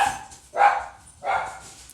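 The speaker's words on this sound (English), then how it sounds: "Dogs." Two sharp dog barks ring out about half a second apart, each loud and fairly close, with quiet gaps between and no talking.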